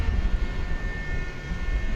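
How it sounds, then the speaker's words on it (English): A UPS MD-11 cargo jet backs up at night at Dallas/Fort Worth Airport. Its engines give a steady, loud roar with a constant high whine running through it. "one of our featured aircraft backing up. One of the 3 UPS MD-11s."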